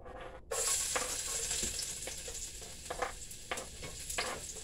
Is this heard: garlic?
yes